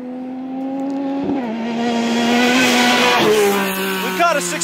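A Yamaha YXZ side-by-side accelerating hard on a speed run before an airbox lid spacer install, engine note climbing loudly through several gear shifts with brief dips, close and continuous.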